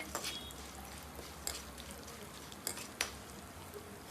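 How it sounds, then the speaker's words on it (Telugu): Garlic cloves, cumin seeds, toor dal and two dried red chilies fry in hot oil for a curry leaf powder, a steady low sizzle broken by a few sharp clicks and scrapes of stirring. "అందులో ఒక 3 వెల్లుల్లిపాయలు, అలాగే జీరా, కందిపప్పు, అలాగే ఒక 2 ఎండుమిరపకాయలు వేసేసుకొని ఇవి చక్కగా వేపేసుకుందామండి"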